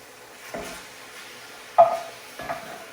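Pieces of pork belly frying in a pan as they are flipped, a quiet background sizzle broken by three distinct utensil clinks and scrapes, the middle one loudest.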